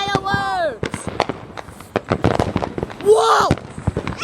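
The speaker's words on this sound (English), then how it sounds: "Look at the fireworks." Fireworks explode in rapid crackling bursts and sharp pops with whistling streaks rising and falling, loud and close, while excited voices exclaim throughout.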